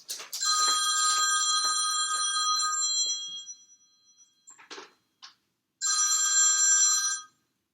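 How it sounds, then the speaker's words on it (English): Telephone ringing in bursts: a bright electronic ring with a metallic bell tone sounds for about three seconds, fades, gives a few brief chirps, then rings again for over a second before stopping, clear and close with no talking. "I turned the phone off and the phone's still ringing."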